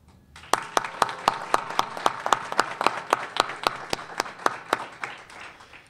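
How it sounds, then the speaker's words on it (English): Applause from an audience at a senior center event honoring state elected officials in Dunkirk, New York, a steady run of sharp individual claps with a crowd texture behind, fairly close and loud for about five seconds. "asking for another round of applause for our state elected"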